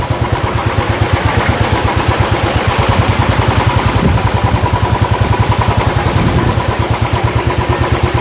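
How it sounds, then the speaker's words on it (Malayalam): A motorcycle engine thumps steadily while riding on a road trip from Alappuzha to Tenkasi, a loud, close, rhythmic pulse with faint rattling and vibration and no talking. "ഞാൻ പക്ഷേ ബൈക്കിലങ്ങ് പോകുന്നു"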